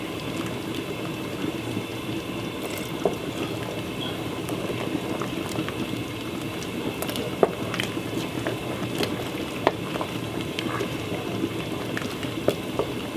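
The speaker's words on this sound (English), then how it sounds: "Give that 2 more minutes and make it get boiled" Turkey gravy thickened with corn flour bubbling steadily in a pan, a continuous close simmering hiss with faint pops throughout, no talk.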